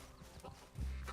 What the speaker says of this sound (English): Fucking horse is running away.